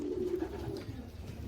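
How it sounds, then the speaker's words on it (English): A racing pigeon gives a soft, low coo, close by and brief, over a faint murmuring background. "so this bird right here is Kevin"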